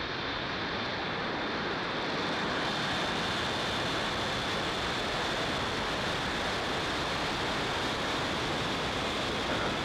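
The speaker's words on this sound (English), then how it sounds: "0, liftoff." A SpaceX rocket lifting off with 21 second-generation Starlink satellites produces a loud, unbroken broadband roar that holds steady throughout, with no voices over it.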